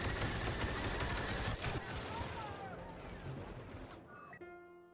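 Dense, rapid gunfire rattles in a Star Wars video game as Ewoks are shot, a busy stream of shots that fades toward the end before a short tonal game sound.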